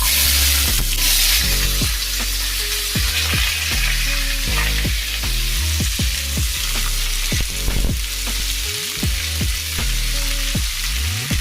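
Potatoes frying in hot oil with dried chilli and nigella seeds for a Bengali dish, a loud, steady, dense sizzle that fills the whole stretch, with faint background tones beneath it.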